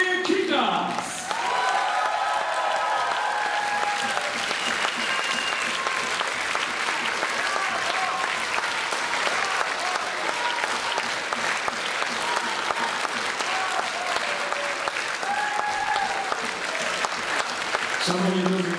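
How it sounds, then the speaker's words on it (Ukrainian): A concert hall audience applauds warmly after a performance by the folk instruments orchestra of the Dnipropetrovsk Glinka Academy of Music. The clapping is loud and sustained, with a few tonal sounds and voices mixed in under it. "ми надзвичайно вдячні вам за ваші теплі оплески"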